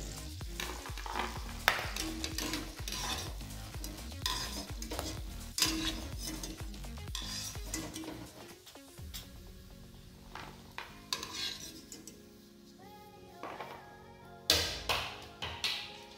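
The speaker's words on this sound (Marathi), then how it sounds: "हे थोडे आपल्याला फ्राय करून घ्यायचे आहे। छान काजू बदाम फ्राय झालेले आहे।" Cashews and almonds fry in a pan, a quick, busy run of metal spoon scrapes and taps over a light sizzle, the stirring easing midway before a few final clinks, with no voices.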